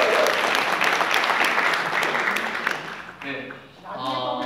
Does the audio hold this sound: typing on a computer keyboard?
no